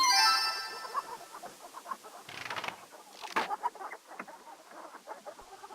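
A chicken in King's Quest III, a retro computer game, clucks in a run of short, close, quick notes, louder in the middle of the run.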